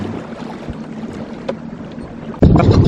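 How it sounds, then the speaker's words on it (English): Strong wind buffets a Com-Pac 23 small sailboat with an old, fraying jib, a rushing roar with water sloshing against the hull, surging into a loud, close microphone-battering gust near the end. "We've got too much wind"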